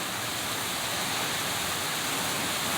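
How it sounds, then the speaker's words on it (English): Steady, dense rain pours outside a porch, a constant broadband hiss that fills the whole stretch without letting up. "see the rain."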